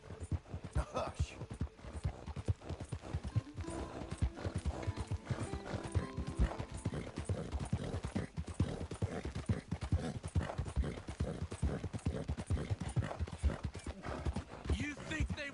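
Horse hooves clop steadily and close in Red Dead Redemption 2, a continuous rhythmic trot that runs the whole time beneath a quiet music bed.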